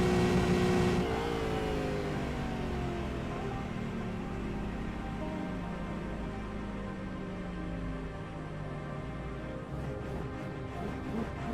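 A race car engine in the iRacing game, revved while still in gear at Daytona, opens with a loud rising roar that drops and settles into a sustained droning whine, steady and close, with no voices.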